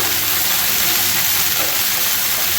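Red, yellow and green capsicum with onion fry on a high gas flame, producing a loud, steady hiss and crackle that runs without a break, close by and with no speech.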